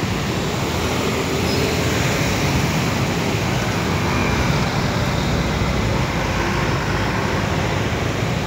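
Loud, steady roar of heavy road traffic as a tour bus passes close by in Bandung, engine and tire noise blending into a constant wash.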